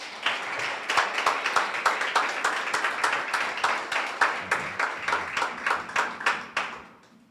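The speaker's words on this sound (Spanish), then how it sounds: "Dele un aplauso a Cristo." A church congregation clapping together during a worship service, a rhythmic unison beat of sharp, evenly spaced claps that holds steady and then trails off at the end.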